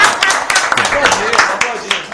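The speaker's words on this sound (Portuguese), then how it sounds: "não quer me aplaudir, eu me aplaudo" A performer at a samba show claps his own hands for himself, giving a quick run of close, sharp claps in an uneven rhythm while he talks over them.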